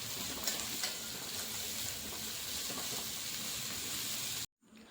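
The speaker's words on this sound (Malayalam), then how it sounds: "ചൂടായ എണ്ണയിലേക്ക് നമുക്ക് 3 മീഡിയം സൈസ് സവാള നീളത്തിൽ കട്ട് ചെയ്ത് ചേർത്ത് ചെറുതായിട്ടൊന്ന് വഴറ്റി കൊടുക്കാം" Three medium onions sliced lengthwise sizzle steadily in hot oil in a pan for a Kerala-style duck curry, a loud continuous frying hiss with faint stirring, cutting off abruptly near the end.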